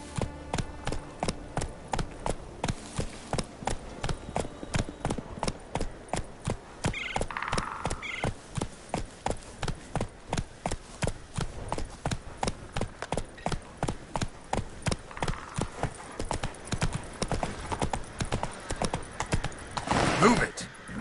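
Roach, the horse in The Witcher 3, gallops with a fast, regular clip-clop of hooves throughout, broken by a couple of brief whinnies or snorts.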